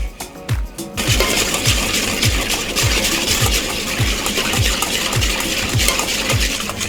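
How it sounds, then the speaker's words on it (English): Broth being whisked into a sauce for stuffed squid with trahanas and fava beans: a steady, rhythmic beat of whisk strokes against the pan, roughly two or three per second, close and loud over a continuous wet rushing. "Whilst you put the broth in, you keep whisking it so it doesn't break."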